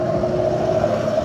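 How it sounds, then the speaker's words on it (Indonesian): A truck on a city road in Jakarta, a close, steady engine hum with a strong tonal drone and continuous road rumble, with no speech. "Oh, ada truk."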